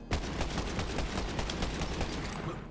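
Rapid gunfire from Borderlands 3 rattles steadily through the whole stretch, dense overlapping shots at a constant loud level with no talking.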